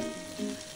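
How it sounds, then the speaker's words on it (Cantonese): Chicken pieces pan-fry in hot oil over medium heat, a brief close sizzle with a steady hiss and a small swell partway through, no talk. "見有少少白煙升起，就可以落雞件煎香，煎到一面金黃色"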